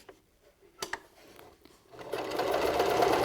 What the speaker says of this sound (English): Now we're going to sew down the side.